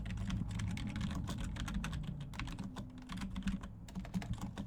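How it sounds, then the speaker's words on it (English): Rapid clicking of keys on a computer keyboard during an online meeting, a busy irregular patter of typing with brief pauses, close and fairly quiet. "I'm just typing."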